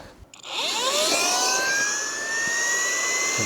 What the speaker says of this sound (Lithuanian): Pasidaręs tokią pompą, prisipūsti valtį.